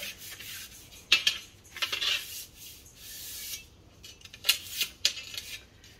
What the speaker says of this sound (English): Just a little bit of a brush. Try to get all the sand out of it.